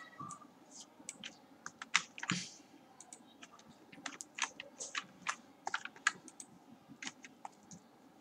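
Quick, irregular clicks of typing code on a computer keyboard, with close, moderately soft keystrokes in bursts and short pauses, no talking.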